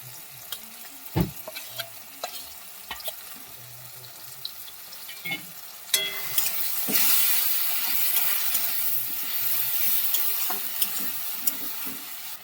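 Cumin, ginger and garlic paste for a mutton curry goes into a pan and begins to fry. Scattered clinks and handling noises come first, then a broad, steady sizzle with stirring rises and carries on to the end, with no talking.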